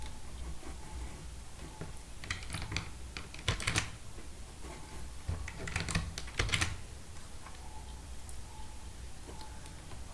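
Keys on a computer keyboard pressed for a Ctrl+Alt+Z shortcut while working in Adobe Photoshop CS3, giving a few scattered clicks and short clusters of close taps over a low steady background hum, with no talking.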